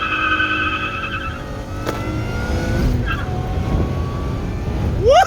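A supercharged Acura TL accelerates hard from inside the cabin, its engine note rising and climbing in pitch, with whoops and talk from occupants over a steady road roar.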